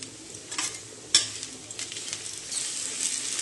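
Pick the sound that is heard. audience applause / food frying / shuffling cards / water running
food frying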